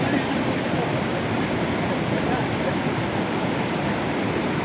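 Steady broadband rush of flowing water, loud and continuous like a nearby stream or small waterfall, filling the whole stretch without pause or speech.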